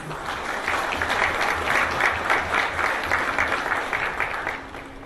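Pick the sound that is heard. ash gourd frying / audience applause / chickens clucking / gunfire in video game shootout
audience applause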